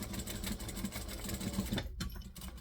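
A sewing machine stitches a fabric koala organizer, its steady motor hum running continuously at close range before a brief pause and restart near the end.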